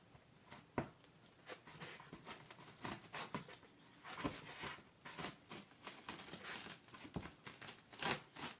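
Paper peeling and tearing away from a window screen coated with Rust-Oleum elastomeric paint, a series of close, dry crackling rips and crinkles coming in irregular bursts with no talking.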